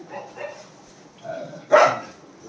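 A dog gives one sharp, short bark close by after a stretch of faint, low background sounds.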